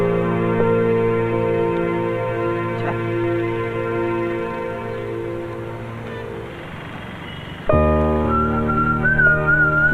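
A man whistles a steady tune with long held notes, clear and close, alone with no talk, in a domestic scene, then breaks off to a higher sliding whistle near the end.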